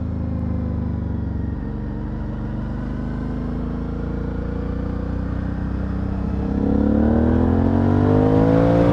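An Aprilia Shiver 900 motorcycle engine hums steadily, then revs up and accelerates toward the end, the pitch climbing as the throttle opens.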